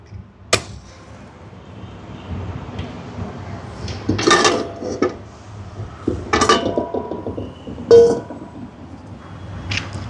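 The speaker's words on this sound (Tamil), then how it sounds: "சட்டியை வச்சாச்சு சூடாட்டும்" A pan set down on a stove, with a few sharp metallic clanks and clinks of cookware between quieter stretches, close by and with no talk.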